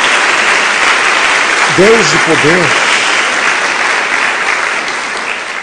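A church congregation claps and cheers in a steady, dense wash of applause through a worship service, while a preacher's voice speaks briefly over it.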